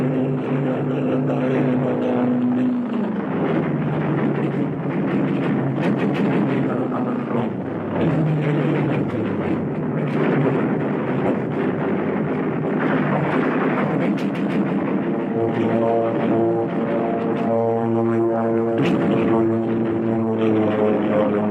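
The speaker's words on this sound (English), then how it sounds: "P-38 and Spitfires against Messerschmitt and Junker." WWII P-38 fighters and Spitfires battle Messerschmitts and Junkers, their piston engines droning loudly and continuously, with rising and falling pitch as aircraft pass, under dense layered combat noise with no talk.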